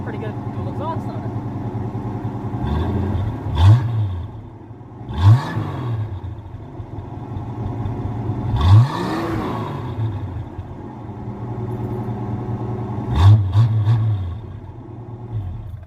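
A Ford Mustang Fox Body V8 with a stock cam and dual exhaust idles with a throaty burble, broken by four or five sharp rev blips, while someone talks in between.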